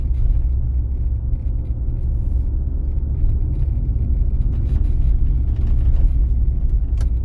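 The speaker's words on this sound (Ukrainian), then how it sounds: "цей навчальний автомобіль їде досить повільно" A driving school training car moves slowly along an exam route in Kovel, its interior engine and road rumble steady and continuous throughout, with no talk.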